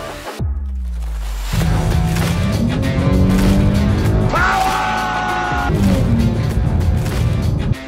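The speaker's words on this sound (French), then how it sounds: "Une accélération et la moitié du plein en moins." A large American-style car accelerates hard on a North American road, its engine rising in a loud, sustained surge that builds through the run with a brief gear change partway, steady and close throughout.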